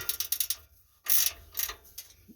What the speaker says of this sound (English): I like using a ratchet wrench. This makes it a lot easier.